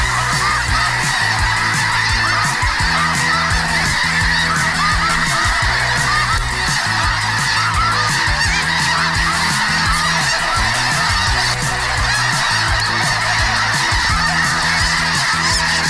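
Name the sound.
flock of snow geese honking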